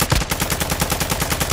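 Rapid automatic gunfire in a shooter video game, a fast even string of loud close shots with no talking.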